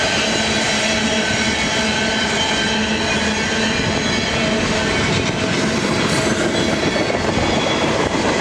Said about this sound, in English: a BNSF train along the Oregon Trunk line